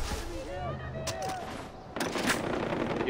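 Game gunfire from rebels and enemies in a Far Cry 4 skirmish: distant bursts and rifle shots behind a speaking voice and ambient tones, growing denser and louder near the end.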